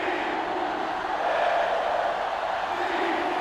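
Steady roar of a sellout stadium crowd in a 2005 college football video game between Notre Dame and LSU, a dense continuous wash of noise that swells slightly midway and holds at an even level.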